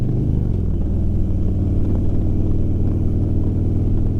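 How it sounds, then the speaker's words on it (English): Motorcycle engine droning steadily while riding two-up, with a smooth upshift under load that barely changes the constant low rumble; no voices. "Now listen carefully for the upshift, loading the shifter."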